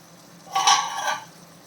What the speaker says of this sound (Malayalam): നല്ല രീതിയിൽ ഇളക്കി കൊടുക്കാം